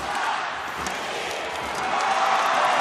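Ice hockey arena crowd at the Arena Seva roaring at the final whistle of a women's gold medal match, a loud sustained wall of cheering that swells near the end.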